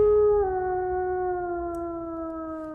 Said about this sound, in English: the only show where my neighbor's dogs seem to make a cameo in every episode